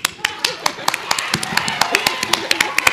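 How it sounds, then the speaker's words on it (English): At a music festival, a small group claps in sharp, distinct, irregular beats, each hand clap standing out clearly and close rather than blending into a crowd roar. "Round of applause for that."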